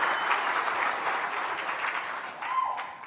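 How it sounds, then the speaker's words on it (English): An audience gives a warm, sustained round of applause in a hall, dense even clapping that fades slightly toward the end, with a faint voice near the close. "That's the best round of applause I've received since I've been home."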